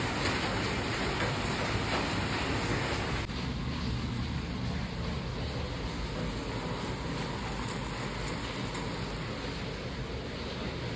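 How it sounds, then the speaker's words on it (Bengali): Continuous heavy rain pouring outside, a dense, even hiss that holds at the same level throughout. "আর আওয়াজ পাচ্ছ নিশ্চয়ই, মুষলধারে বৃষ্টি পড়ছে বাইরে।"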